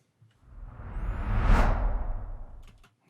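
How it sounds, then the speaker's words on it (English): A single broad noise whoosh swells smoothly from silence to a peak and fades away again, airy and hissing like rushing white noise. "Very generic sounding, like white noise whoosh."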